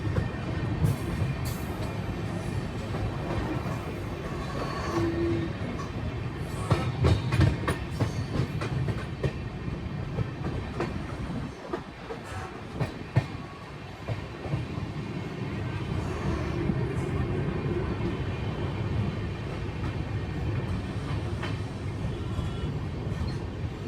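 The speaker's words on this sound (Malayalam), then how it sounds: "വണ്ടി ഭയങ്കര സ്ലോ ആയിട്ടാണ് വണ്ടി ഓടുന്നത്" A passenger train rolls slowly along the rails past a small station in hot, dry country, its steady clickety-clack and carriage rumble carrying on throughout with no voices.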